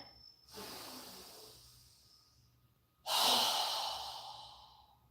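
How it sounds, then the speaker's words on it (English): Yoga breathing: a soft inhale through the body, then after a pause a strong forceful exhale that bursts out loudly and fades over about two seconds, close and alone. "So move your arms and hands by the side of your body, and we're going to inhale. Strong exhale."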